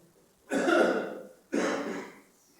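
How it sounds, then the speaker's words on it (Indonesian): A pastor coughs twice during a Sunday church sermon, two rough, fairly loud bursts about a second apart, each trailing off briefly, with no talk in between. "Bapak Pendeta batuk lagi"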